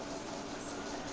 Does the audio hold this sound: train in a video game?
yes